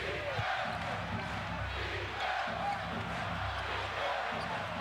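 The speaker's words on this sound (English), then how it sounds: "The chant of defense from this capacity crowd of the Garden." A capacity basketball crowd at Madison Square Garden roars steadily through a Knicks–Bulls Eastern Conference Finals playoff game, a dense, continuous wall of voices that may carry a defense chant, with court sounds faintly underneath.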